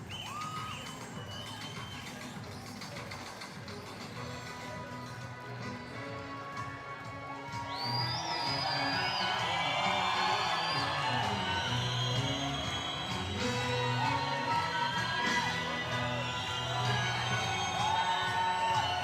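A boxing arena crowd applauds and cheers before a 60kg bout, swelling louder about halfway through into a sustained roar of clapping and shouts.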